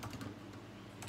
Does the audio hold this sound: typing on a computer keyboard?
yes